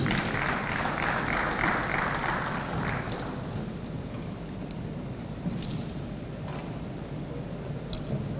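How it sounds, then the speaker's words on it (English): Audience applause at a South East Venture Capital Program event in Enugu, a dense, steady wash of clapping that fills the room and eases slightly toward the end, with no voices on top. "Shall we give her a round of applause,"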